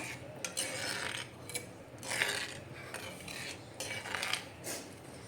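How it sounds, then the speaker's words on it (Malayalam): A spoon stirs buttermilk curry in a pan, scraping the metal in repeated rhythmic strokes with short bursts of grating and clinking, all fairly quiet and close. "ഓക്കെ, ഇനി നമ്മൾ നന്നായിട്ട് ഇളക്കി കൊടുക്കാം."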